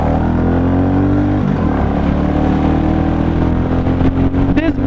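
A 2022 Royal Enfield Classic 350 in Halcyon Green pulls away and accelerates on a road, its engine droning loudly and steadily throughout with a brief dip in pitch partway through, and a voice talking over it.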